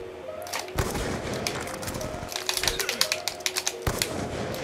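Rapid gunfire in Black Ops 2 free-for-all trickshotting: dense clattering shots and bursts with sharp impacts, loud and close over a busy game background.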